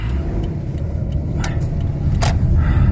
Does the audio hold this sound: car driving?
yes